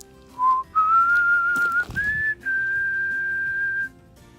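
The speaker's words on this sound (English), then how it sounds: "There's this whistle like that he uses to call the dog" A person whistles a dog call taken from the film Iron Will, a few clear rising notes ending in one long sustained tone, close and alone in a quiet room.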